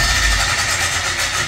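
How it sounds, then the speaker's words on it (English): A loud, steady mechanical whir of a barn exhaust fan running continuously close by, with no voices. "Yeah, so that's the exhaust fan."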